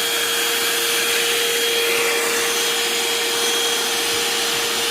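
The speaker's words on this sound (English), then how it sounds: "Then I turn my Pro Heat on and I just kind of soak them down with water." Pro Heat machine spraying water onto a car interior during an install, a steady loud hiss with a constant whine, unbroken for the whole stretch.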